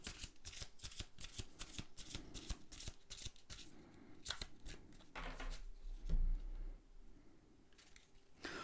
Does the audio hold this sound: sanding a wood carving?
no